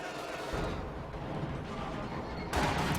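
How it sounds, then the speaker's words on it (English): Heavy mortar artillery firing in Company of Heroes 2, a World War II strategy game, with dense rumbling blasts running throughout and a fresh loud impact near the end, no talking over it. "There's two heavy mortars of Virgile"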